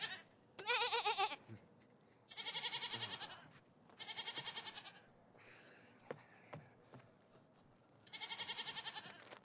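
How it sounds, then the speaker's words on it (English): Goats bleating at an outdoor Shakespeare in the Park performance of As You Like It, several distinct wavering bleats in bursts separated by short pauses, fairly clear against quiet surroundings. "Hi, goats."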